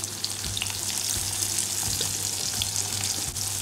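Chopped raw onions dropped into hot oil with browned mustard seeds while cooking poha, giving a steady close sizzle and frying hiss with a few small pops and scraping clicks throughout.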